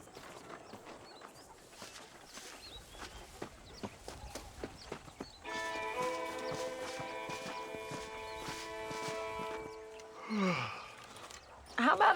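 Horse hooves clip-clop in a steady walking rhythm during riding in the Red Dead Redemption video game, followed by a sustained tonal mechanical sound and brief voices near the end.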